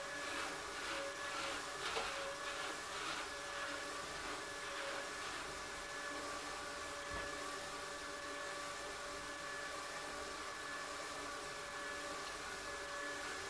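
Motorized Brother drum carder running steadily while carding alpaca fiber, a continuous whirring motor hum with faint scratchy brushing, fairly constant in level throughout with no talk.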